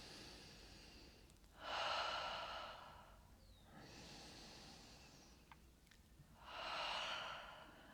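Three slow, breathy exhales through the mouth during seated chair-yoga breathing, each a soft airy rush lasting about a second or more, separated by quieter inhales, close and intimate with no talking.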